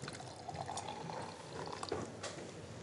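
Liquid, 120 ml, pours into Knöpfli dough in a kitchen, a faint close trickle and splash with small clinks and drips.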